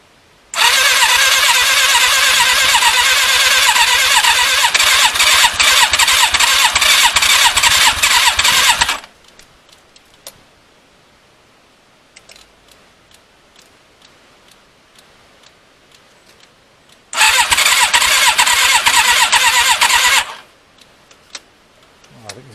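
A Thunderace engine with a running fault fires up loudly, roaring for several seconds before cutting out, then starts again for a shorter loud burst before stopping.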